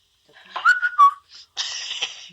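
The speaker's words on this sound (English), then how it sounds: "I can whistle." Two short whistled phrases with a sliding pitch, followed by a breathier, sustained whistle; fairly close and clear, with no talking.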